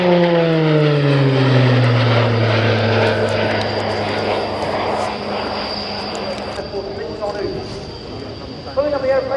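A propeller aircraft engine drones loudly overhead at the Royal International Air Tattoo airshow, its pitch sliding down as it passes, then settling into a steady hum with a faint high whine.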